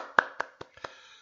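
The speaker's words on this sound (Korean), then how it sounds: "박수 한번 칠게요." Four crisp hand claps in an even rhythm, close and dry in a quiet room, followed by a softer fifth clap.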